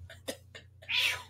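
A voice imitates a cat's meow, a short drawn-out mewing call following a few brief spoken syllables.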